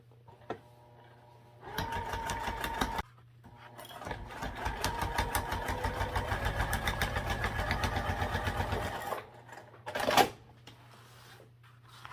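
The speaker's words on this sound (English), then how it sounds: "So we'll do 1/2 inch on each side and then top stitch." A sewing machine runs a half-inch seam, starting with a short burst of stitching and then a longer, steady run of rapid mechanical chatter over a low motor hum, ending with a sharp clunk.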